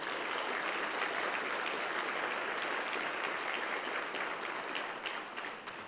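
An audience at a health equity summit gives a sustained round of applause. The dense, even clapping continues for about six seconds and eases slightly toward the end, with no talk over it.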